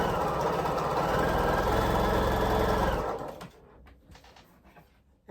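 A sewing machine stitches a quarter-inch seam on a precut quilt half-square triangle, a loud, even mechanical whir running steadily for about three seconds before stopping abruptly, leaving faint handling noise.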